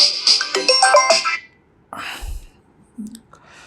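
A mobile phone ringtone plays loud and close as a quick melodic electronic tune, then breaks off, followed by faint rustling and clicks.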